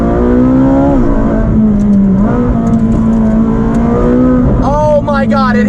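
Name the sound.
loud car exhaust heard with window down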